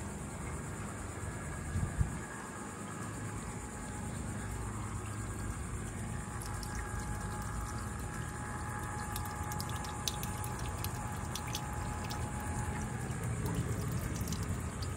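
A pump steadily pushes water through a homemade hydroponic vertical grow tower, giving a continuous broadband whir and trickle that holds at an even level for the whole stretch, with no talking over it.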